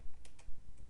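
A few crisp keystrokes on a computer keyboard, typing a network command, land as short separate clicks in quick succession, close and clear over faint background hiss.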